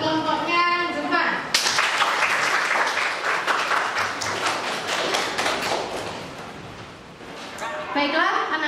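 An eighth-grade class applauds a student group, breaking into loud, sustained clapping that runs for several seconds, with children's voices heard before and after.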